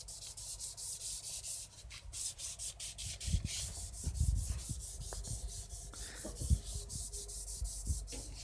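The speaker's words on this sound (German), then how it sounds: "Oder man macht es mit einem Klotz und schleift die gerade." Repeated rasping strokes of a sanding block rubbed back and forth over body filler on a car sill, close up, in uneven bursts with some light knocks between.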